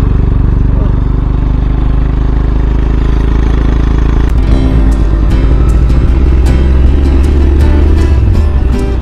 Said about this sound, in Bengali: অযোধ্যা পাহাড়ের ওপর দিয়ে বাইক ড্রাইভ করে যাচ্ছি